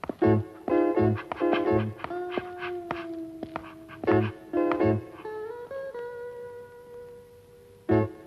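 A female dog at a doctor's visit in a Tamil comedy scene gives a long drawn-out howl, with sustained wavering whines between short yelps and barks. The animal is close and moderately loud, and no one talks over it.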